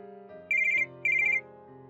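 An incoming call rings on a phone as a bright electronic ringtone, two short trilling bursts over a soft synthesized melody, clear and close with no voices.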